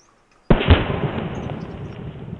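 A .45 ACP carbine shot strikes a water jug with red-coloured water in it, one sharp close blast followed by a broad rushing spray that decays slowly over two seconds, with no talk.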